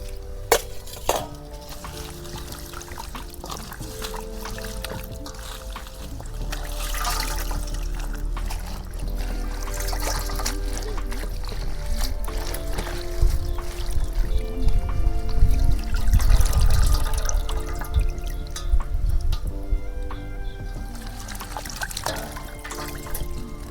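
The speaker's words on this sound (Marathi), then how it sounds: "मी पाणी टाकते आणि मस्त धुवून घेते दोन तीन पाण्यांना" Water sloshing and splashing in a bowl as wild forest leafy greens are swished and rinsed in two or three changes of water, with occasional clinks of a vessel, growing louder midway.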